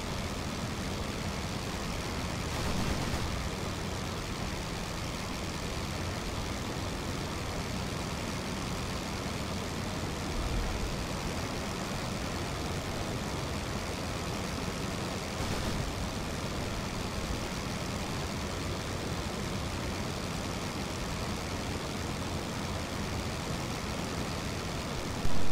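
Aircraft engines of planes in a flight video game drone as a steady, dense roar that holds at an even level for the whole stretch, with no talking.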